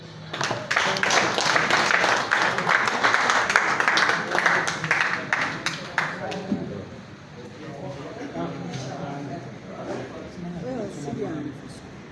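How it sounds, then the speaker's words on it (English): A crowd applauds following the swearing-in of a new Netball Uganda executive, dense steady clapping for several seconds that thins out, with a voice speaking over the tail end. "Okay, big clap."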